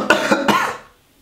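A person gives two quick, close coughs in a row, then falls silent.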